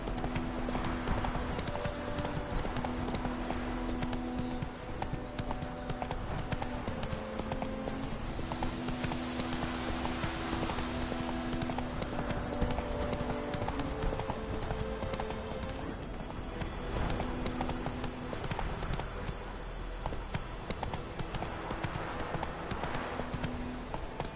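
Roach, a horse in a video game, gallops with rapid, rhythmic hoofbeats throughout, layered over a looping musical score and other game sounds.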